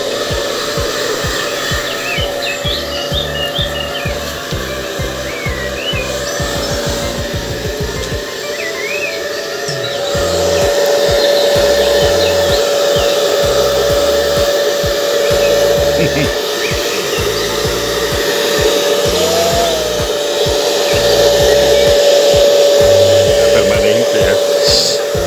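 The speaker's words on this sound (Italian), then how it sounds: "Ecco qua, col phon, una bella asciugatina." A hair dryer drones loudly and continuously while drying a wet hen, its steady whine shifting slightly in pitch, with soft chirps and rustling underneath.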